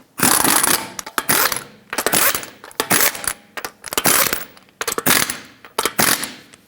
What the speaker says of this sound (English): Put on all 5 of your lug nuts, bottom them out, and torque them to 83 foot-pounds